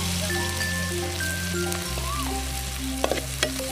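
Onions frying in a pan for a crab curry, a steady crackling sizzle with a few sharp utensil taps near the end and faint background tones.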